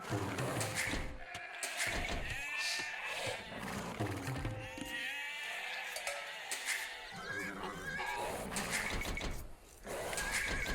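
Sheep bleat repeatedly in Age of Empires II, in a dense overlapping mix with other game sounds and steady background noise.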